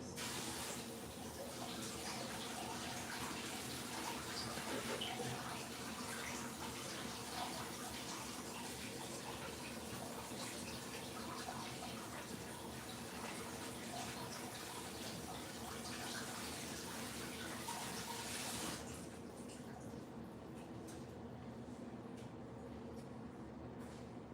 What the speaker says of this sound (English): let me rinse off these blackberries